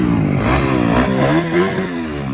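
A 110 pit bike motorcycle runs close by with a steady, buzzy engine note that rises and dips slightly as it is ridden, loud and continuous throughout.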